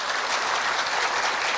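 A dense wash of audience clapping fills the hall at a Korea University staff retirement ceremony, steady and even throughout, with no voices over it.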